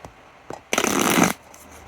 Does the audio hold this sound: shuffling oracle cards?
yes